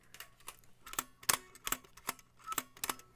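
An old, crude Brownie box camera's shutter fires repeatedly, giving sharp, close mechanical clicks in an uneven rhythm of roughly nine snaps, quiet and isolated.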